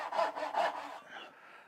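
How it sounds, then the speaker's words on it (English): Hand saw cutting wood for dovetail joints, three rhythmic back-and-forth strokes close up, then the rasp trailing off quietly with no talking. "My wrist is getting kind of tired just from sawing back and forth, but this is how you cut dovetails."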